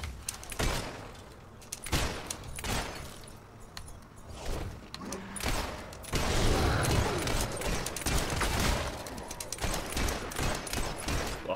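Gunfire from a powerful gun in the Fable 3 video game, a run of sharp, loud shots and bursts spaced irregularly over a busy game soundscape.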